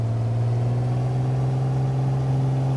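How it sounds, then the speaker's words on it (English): Simulated Piper PA-28R Turbo Arrow piston engine held near takeoff power in a flight simulator, a steady loud drone with a strong low hum and layered harmonics, constant throughout with no audible talk. "Again, don't want to overboost the engine."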